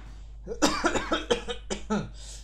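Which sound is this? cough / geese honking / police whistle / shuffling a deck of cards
cough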